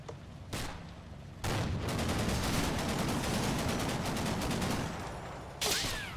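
Video game gunfire rattles out in a sustained rapid burst of shots lasting several seconds, with a sharp single report before it and another crack near the end.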